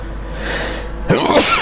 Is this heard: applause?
no